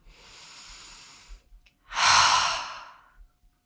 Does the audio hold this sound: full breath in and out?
yes